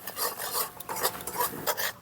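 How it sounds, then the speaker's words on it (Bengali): A spoon scrapes and rasps through spices in a pan with fried eggplant, giving a quick series of rhythmic stirring strokes against the metal and a faint sizzle underneath. "এখন নাড়াচাড়া করে মিশিয়ে নেব।"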